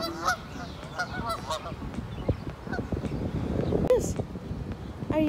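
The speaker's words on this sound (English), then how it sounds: "Are you watching the geese?" Several geese honk repeatedly outdoors, mid-distance calls in scattered bursts over light wind noise, with a person talking nearby now and then.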